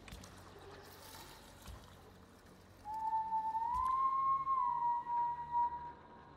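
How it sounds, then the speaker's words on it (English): A whistle in the video game Killer Frequency: after a quiet start, one sustained whistled tone rises slightly and holds for about three seconds, fairly loud against faint background noise. "Sounds like a Walking Dead whistle"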